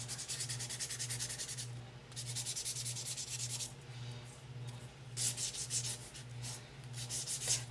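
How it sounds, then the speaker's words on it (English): A painted wooden bench sign is sanded by hand to rough up the finish. Brisk back-and-forth scratching strokes come in bursts with short pauses, close and quiet over a faint steady hum. "let's sand this a little bit and get it a little roughed up"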